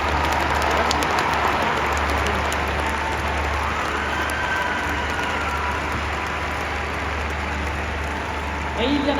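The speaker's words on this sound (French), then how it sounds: "Et je vous propose encore quelques chaleureux applaudissements." Warm applause rises from the crowd at the CHI de Genève show jumping event, a steady loud wash of clapping that holds throughout, with a voice speaking over it.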